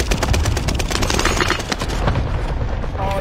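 Rapid gunfire in a battle royale video game: a loud burst of shots and booming reports in quick succession that thins out toward the end.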